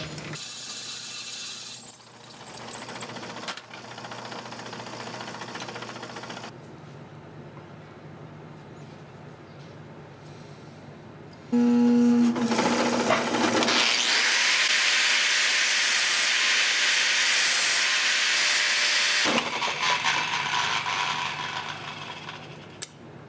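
Mechanical noise from a drill press with clicking and whirring, shifting in segments, then a louder sustained drilling grind for several seconds before easing off.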